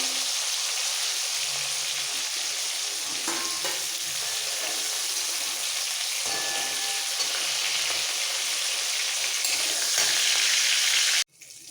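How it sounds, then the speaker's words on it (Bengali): Steady, dense sizzling of aubergine, flat beans and potatoes frying in hot oil, continuous and close, ending abruptly near the end. "একসাথে একটু ভাজবো বেগুন শিম হালকা ভাজা হয়ে গেছে"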